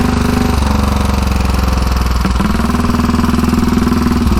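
A 1934 Velocette KTT single-cylinder race motorcycle engine runs loud and close, with a rapid, steady exhaust beat that dips briefly in pitch midway before picking up again.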